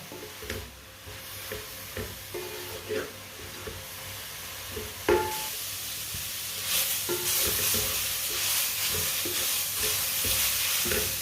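Carrots stirred and roasted in a pan give off a steady sizzle, with repeated scraping strokes of the spoon that grow busier and louder in the second half.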